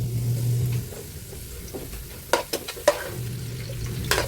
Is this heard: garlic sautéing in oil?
yes